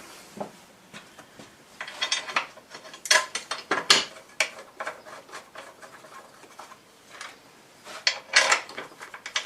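Bolts are done up loosely by hand on a car in a garage, a run of irregular ratcheting clicks and metallic rattles coming in short bursts with pauses between them.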